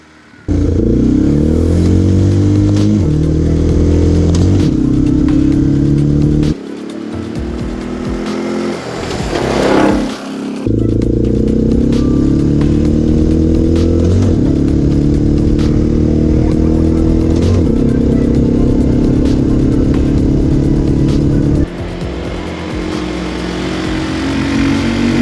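An ATV engine drones loudly and close, rising in pitch through sustained pulls with several abrupt drops where the gears shift up automatically. A brief clattering lull comes partway through, and no one speaks.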